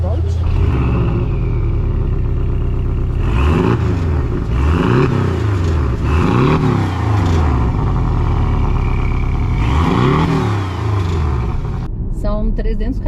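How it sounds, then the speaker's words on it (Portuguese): A Porsche 718 Cayman T engine rumbles loudly and revs repeatedly, rising and falling through several rising sweeps as the car accelerates, heard from inside the cabin while a person talks over it. "quando você dá o pé no fundo, o motor cresce"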